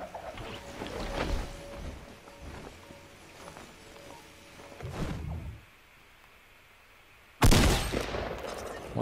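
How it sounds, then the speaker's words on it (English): Gunshots from a white tactical shotgun in Fortnite season 7, with a few shots spread out and a sharp, loud blast near the end against quieter game ambience. "White tactical shotgun."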